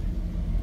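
Car engine at a large car meet with hundreds of vehicles, a steady low rumbling idle or rev heard close and loud for a brief moment with no talk.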